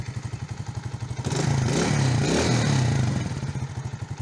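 A Musstang Alpha motorcycle just after repair, its engine starting and settling into a steady, rhythmic idle putter; a short louder burst as it catches, then even low thumping pulses, moderately close.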